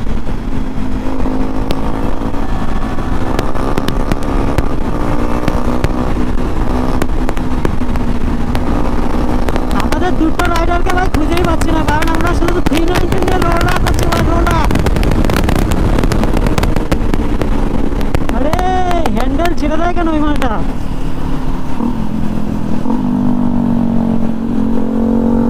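A KTM Duke 390 motorcycle on the NH 12 highway drones steadily and loudly throughout, its engine note rising and falling with repeated revving and acceleration over constant road and wind roar.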